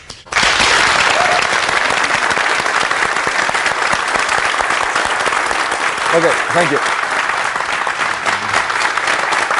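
Audience applause at a Bujinkan martial arts gathering breaks out suddenly after a brief quiet and continues loud and dense, while a few voices speak briefly over the clapping.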